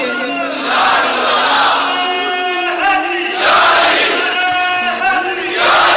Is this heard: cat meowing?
no